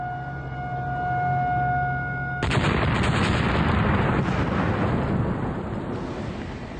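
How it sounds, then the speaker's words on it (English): A steady warning siren tone sounds, then a dynamite blast at the Three Gorges dam construction site breaks in with a sudden loud broadband roar that rumbles on for several seconds before slowly fading. "More dynamite caps are placed in the hole before the explosion is triggered."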